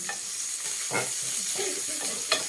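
Garlic, onion and bitter gourd sauté in a pan with a steady, close sizzle, broken by a few stirring scrapes.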